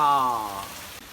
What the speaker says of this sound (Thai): ท่ามกลางสายฝนโปรยปลาย ทอด ปลา